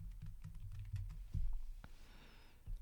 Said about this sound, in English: So I just type in Black History and then celebration.